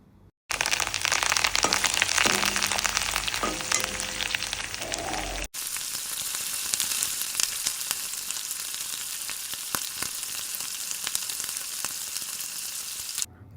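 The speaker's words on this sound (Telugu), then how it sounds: "వెల్లుల్లిపాయ ఎండుమిర్చి ఆవాలు జీలకర్ర కరివేపాకు వేసుకుని ఫ్రై చేసుకోవాలి బాగా గోల్డ్ కలర్ వచ్చే వరకు" Garlic, dried red chillies, mustard seeds, cumin and curry leaves fry in hot oil for a drumstick-leaf dal tempering, giving a loud, close, steady sizzle and crackle with a brief break partway through.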